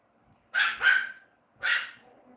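A dog barks three times, loud and close: two quick barks in a row, a short gap, then a third.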